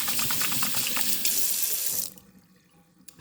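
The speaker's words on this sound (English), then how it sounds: "Gotta wash my hands." Water runs steadily from a kitchen tap as hands are washed under it for about two seconds, then the flow is shut off, leaving a quiet room with a faint drip or clink near the end.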